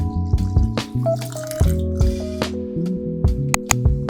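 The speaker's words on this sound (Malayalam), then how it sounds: "ഇനി ബാക്കി പാലും കൂടെ ഇതിലേക്ക് ഒഴിക്കാം" Cold milk pours and splashes into a bowl for a mango shake in uneven gulps, with small drips and a wet, filling sound.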